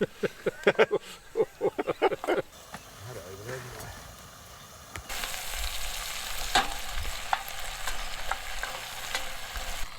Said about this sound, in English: with the onions you don't need to brown them off, they only need to be sort of softened